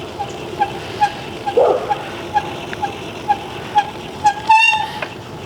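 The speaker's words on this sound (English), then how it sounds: "See, that was actually the brake squeaking." Brake squeal from an e-bike ridden along a paved bike path: faint, regular squeaks ticking at a steady rhythm, then one brief, louder, tonal squeal near the end over a low rolling background.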